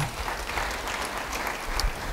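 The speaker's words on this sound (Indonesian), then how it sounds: "Beri tepuk tangan bagi dia." Church congregation applauding during a sermon, a soft, steady patter of many hands clapping, fairly distant and low in level.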